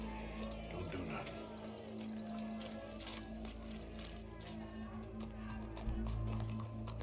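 Horse hooves clip-clop in Red Dead Redemption 2, a soft rhythmic clatter under a steady tonal hum of game music, with a brief louder thump near the end.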